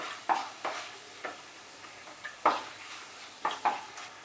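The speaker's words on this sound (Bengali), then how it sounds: "গরম মশলার মধ্যে আমি নিয়েছি এলাচ, লবঙ্গ, দালচিনি আর গোলমরিচ, তবে সবটাই আমি একটু থেতো করে দিয়েছি। 2টো তেজপাতা দিয়ে দিলাম। ফোড়নটাকে ফ্রাই করব 15 থেকে 20 সেকেন্ড" Whole garam masala of lightly crushed cardamom, cloves, cinnamon and black peppercorns with two bay leaves frying in hot oil, heard as a soft sizzle broken by several short stirring scrapes at an irregular rhythm, close and fairly quiet.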